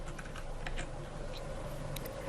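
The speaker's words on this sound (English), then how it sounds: "In the opened window, you type in the project name" Soft, rapid keystrokes on a computer keyboard as a project name is typed into a software window, quiet and close with no voices.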